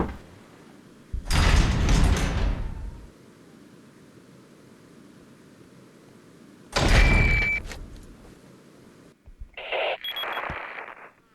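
A door marked with a strange symbol opens in Resident Evil 4: two loud grinding, rumbling bursts of heavy movement separated by quiet ambience, followed by a shorter mechanical clunk.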